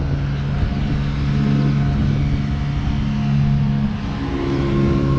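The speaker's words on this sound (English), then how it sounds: "there are vehicles out here, as you can see, but with all this traffic here" Road traffic on Finch Avenue West near light rail construction, a continuous loud rumble of cars passing close by, with engines swelling and fading and no voices.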